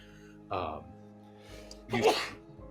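Two quick sneezes close by, the second sharper and louder, with a faint murmur around them.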